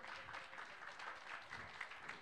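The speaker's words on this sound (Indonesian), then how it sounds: "Tepuk tangan." A church congregation at a Sunday service claps in a continuous, fairly faint patter, with a low murmur of voices underneath.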